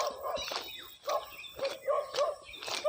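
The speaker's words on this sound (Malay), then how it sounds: "ada anjing penjaga" A guard dog at an oil palm and rubber plantation barks repeatedly, about five loud, fairly close barks in quick succession over outdoor ambience.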